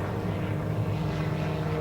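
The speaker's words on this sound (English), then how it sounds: "the aircraft begins to tumble again across the skies of Tuscaloosa" Aerobatic propeller airplane at the Tuscaloosa Regional Air Show, tumbling through the sky: a loud, steady engine drone with a low rumble that holds throughout.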